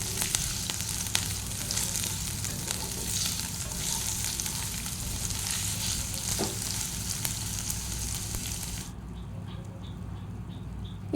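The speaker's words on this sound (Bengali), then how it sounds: "তারপর পেঁয়াজগুলোকে এখানে তেলের মধ্যে হালকা করে নাড়াচাড়া করে নেব।" Diced onions fry in hot oil and are stirred during the making of a Bengali aloo dum, a continuous close sizzle with light scraping taps that cuts off sharply near the end.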